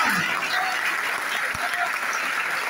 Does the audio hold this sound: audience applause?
yes